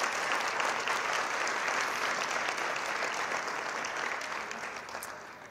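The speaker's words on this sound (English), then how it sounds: "I would like everybody to just give a round of applause for all the firefighters" An audience at a city ceremony claps for firefighters, a dense, steady round of applause that holds strongly before slowly tapering off toward the end.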